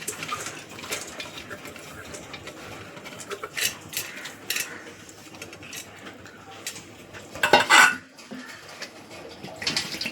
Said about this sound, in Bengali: এবার এই ডালটাকে একটা প্রেসার কুকারে নিয়ে নিচ্ছি।